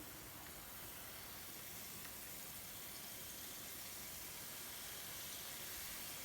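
Besan sev sizzles as it fries in medium-hot cooking oil, a steady, even hiss that continues throughout with no talking.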